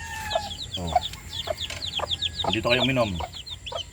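Sweater cobra chicks peeping in a repeated series of high, bright chirps close by, with a person speaking softly over them.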